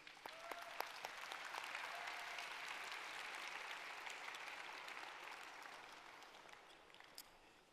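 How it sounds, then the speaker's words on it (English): A convention audience applauds steadily in a large hall, a dense wash of clapping that swells early and slowly fades toward the end, with no talking over it. "Let's give a massive round of applause to all the previous great speakers."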